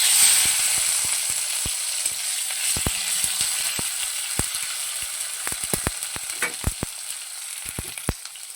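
Chopped tomatoes fry in hot oil seasoned with whole cumin, giving a close, steady sizzle with sharp pops and clicks scattered throughout as they are stirred.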